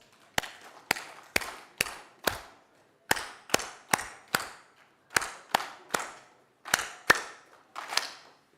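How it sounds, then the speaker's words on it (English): An audience at the Kenya Population and Development Conference claps together in a counted pattern: five sharp claps, then four, three, two and a single final clap, crisp and evenly spaced, with no talking. "We are going to do 5 factorial. Means we clap 5 times 4, 3, 2, 1."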